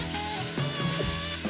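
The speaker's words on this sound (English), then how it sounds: "my oil is melted, and I'm going to start by adding my onion" Onion hitting melted oil in a preheated Instant Pot, producing a steady, close crackling sizzle that runs throughout with a few brief clinks of stirring.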